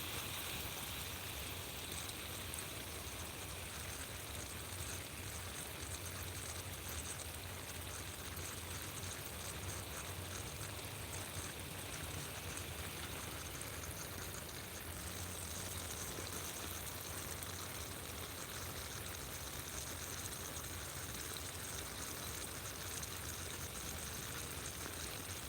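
Steady running water from a garden watering session outdoors on a brisk morning, a continuous broadband hiss and splash holding constant for the whole stretch, no voices.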